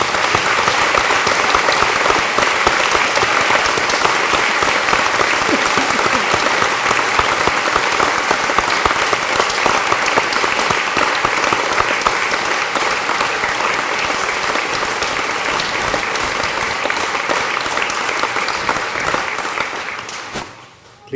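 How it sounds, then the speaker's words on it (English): A packed hall at a university graduation ceremony claps for the standing graduates in loud, sustained applause. The dense clapping stays strong for about twenty seconds, then drops off sharply at the end. "we're going to take a moment just to give you a round of applause"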